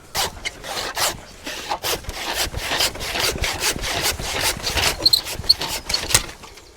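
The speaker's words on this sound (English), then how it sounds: "You want to go and get me the saw a minute?" A hand saw cuts through a tree branch, loud and close, with rapid rhythmic rasping strokes continuing steadily for several seconds without talk.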